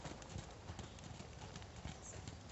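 Horse hooves clip-clop steadily at a rising trot during an English riding lesson at an equestrian center, a quick continuous rhythm of close, fairly soft footfalls with faint background noise.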